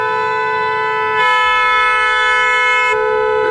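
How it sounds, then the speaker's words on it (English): A car horn blares in one long, loud, steady honk held for most of the moment, rising sharply partway through and dropping back near the end, with no talking over it. "Jeffy, get off the horn, Jeffy."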